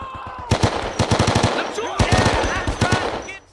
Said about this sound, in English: You've got 2 machine gun nests, you've got one in front of you and one to the left of you.